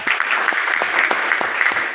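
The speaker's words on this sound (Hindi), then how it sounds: "जोरदार ताली" Loud applause from an audience at a Smart Value program feedback event in Sagar, MP, dense continuous clapping with sharp individual claps standing out, steady and close throughout.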